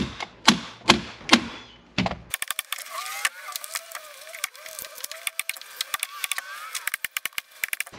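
A Stanley staple gun fires staples into seat cover fabric: a few loud, sharp snaps come first, then a rapid run of fainter clicks and taps with squeaky fabric rustle, all up close with no talking.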